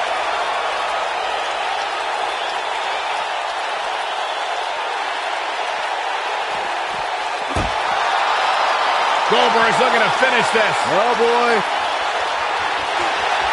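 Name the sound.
crowd cheering in the wrestling video game WWE 2K19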